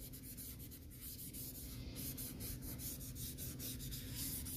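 Tissue rubbed over a painting of mountains, a soft, continuous dry rubbing that stays steady and faint throughout with repeated strokes and no talk.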